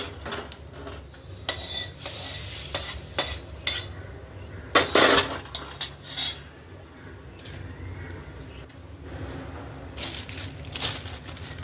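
Sesame and cumin seeds roasting in a pan, with intermittent scraping, clinking and rattling as the seeds are moved about, including a louder burst of crackly stirring near the middle.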